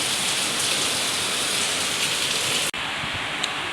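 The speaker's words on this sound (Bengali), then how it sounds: "বাইরে বৃষ্টি হচ্ছে" Steady rain pours down outside on a late afternoon, a dense continuous hiss that holds loud for most of the stretch before briefly cutting out and resuming.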